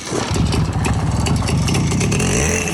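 Romet Ogar 200 motorcycle, left standing in a shed for over a decade, with its engine running loudly and close, a throbbing, uneven idle with small rev surges and no talk over it.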